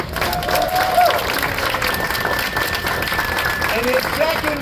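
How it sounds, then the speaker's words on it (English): A crowd at a New Haven Pride Center anniversary celebration claps and cheers in a broad, steady wash, with some voices and whistles rising over the continuous applause. "can we give a huge round of applause to Hope and Nick for getting us through this chapter?"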